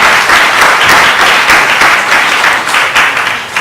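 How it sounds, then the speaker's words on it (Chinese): A church congregation claps together during a Saturday worship service, loud and sustained applause filling the room at close range without a break. "我们用掌声来献给神"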